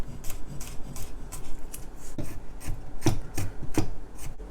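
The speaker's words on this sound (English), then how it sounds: "Remove these hard pieces at the end and mince this garlic" A knife minces peeled garlic on a cutting board, with irregular close chopping taps and short scraping strokes over a few seconds, and no voices.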